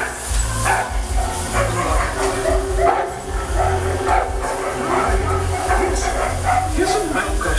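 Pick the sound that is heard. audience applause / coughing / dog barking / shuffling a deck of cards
dog barking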